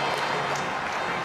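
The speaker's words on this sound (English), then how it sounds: "And they applaud him, and why wouldn't they?" Stadium crowd applauding a batsman's century in a one-day international cricket match in Sharjah, a steady wash of distant clapping and crowd noise throughout.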